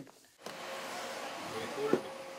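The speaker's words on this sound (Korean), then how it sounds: "청소기 소리도 요란한 국악연구소." A vacuum cleaner switches on in a traditional Korean music institute during cleaning, its steady whirring drone running close and continuous after a brief quiet start, with a voice speaking over it.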